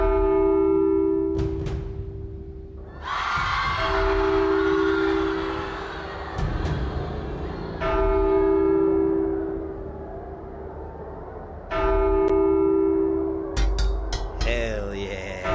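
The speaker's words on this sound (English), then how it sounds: "Ooh, Bell!" A bell in the video game The Walking Dead: Saints and Sinners rings out loudly with long sustained tones that swell and fade several times, alongside bright metallic clanks.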